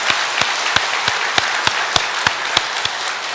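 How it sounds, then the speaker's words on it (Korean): A crowd applauds steadily, many hands clapping together with a few louder individual claps standing out. "유일하게 우리 김태수 목사님 8개월 동안 참 수고했는데 박수로 한번 뜨겁게 격려하도록 하겠습니다."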